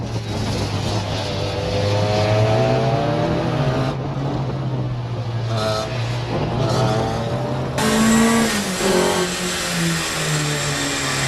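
A Clubmans sports prototype race car at Anglesey Coastal accelerates hard out of the final corner, its engine note loud and steady, climbing through a gear change as it passes close by.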